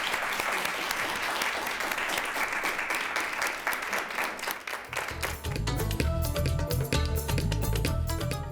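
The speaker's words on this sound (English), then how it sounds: "Let's have one more round of applause, please, for our panelists." A panel-discussion audience gives a sustained round of dense applause, loud and close, with many hands clapping together; near the end music swells in underneath as the clapping continues.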